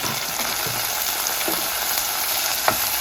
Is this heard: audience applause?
no